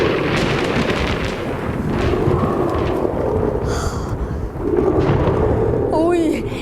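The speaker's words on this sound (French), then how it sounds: "Affrontez les pluies torrentielles, les éclairs, le tonnerre. Faites l'orage." A theatre performance recreates a thunderstorm with a continuous loud rumbling roar that swells and rolls, with voices briefly heard over it.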